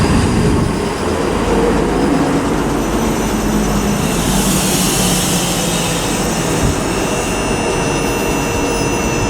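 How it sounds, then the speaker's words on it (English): A ScotRail class 334 electric train arriving at Haymarket station, a loud, continuous rumbling roar with a steady hum and faint whining tones, sustained without a break over nine seconds. "arriving now is 334020, the 1646 ScotRail service to Milngavie from Edinburgh"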